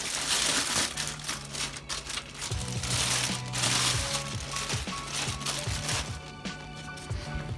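A small plastic bag crinkles and rustles as a boxed Replicade Street Fighter 2 miniature arcade cabinet is unpacked, with close, continuous handling noise and a few sharper crackles.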